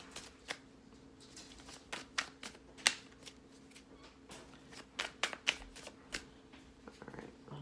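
Playing cards for a truth-style card game being shuffled in a quiet room, a string of crisp riffling bursts and taps spread irregularly across the moment, close and fairly soft.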